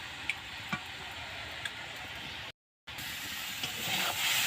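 Fresh leafy greens fry uncovered in a pan with a steady low hiss and sizzle, a few faint ticks and pops scattered through, cut by a brief silent gap before the sizzle returns slightly louder.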